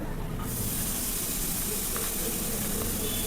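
Carrot dropped into a spoonful of hot oil in a pan while making a simple pizza, setting off a loud, steady sizzling hiss that starts abruptly and holds for a few seconds.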